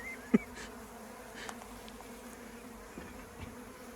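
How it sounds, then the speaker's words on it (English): A steady, low hum of many bees buzzing together, close and continuous, with a brief sharp knock near the start. "So we've got plenty of bees in here."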